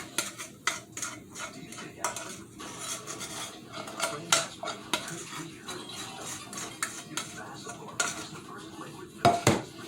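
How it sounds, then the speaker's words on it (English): A spoon stirs and scrapes around a pot of spice mixture, irregular clinks and knocks against the metal with soft swishing between, close and fairly clear, without speech. "Mix it up real good."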